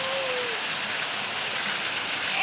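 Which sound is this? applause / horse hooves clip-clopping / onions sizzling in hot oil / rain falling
rain falling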